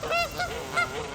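Several geese in a neighborhood honk in quick succession, loud and close, a few nasal calls overlapping over steady outdoor background noise, with no talking.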